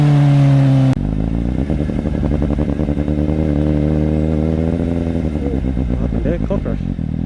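Suzuki GSX-S750 motorcycle exhaust heard from the rider's seat on a first ride, a loud steady engine drone that rises and falls with revving and gear changes after a brief idle at the start.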